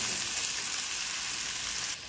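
Food with sesame oil simmers in a pan with a steady, close, hissing sizzle that holds evenly and then dips slightly at the end.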